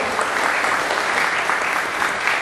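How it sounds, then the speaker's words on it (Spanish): Dense, steady applause from an audience at a public event, filling the whole stretch at an even, loud level with no break and no voices standing out. "ese aplauso debe ser más fuerte"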